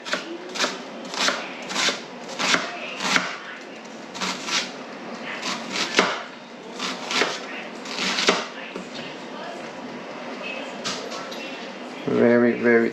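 A knife chopping onion into very small, thin pieces on a board, with quick rhythmic bursts of cutting strokes up close, pausing briefly midway and picking up again, then a short clatter at the end.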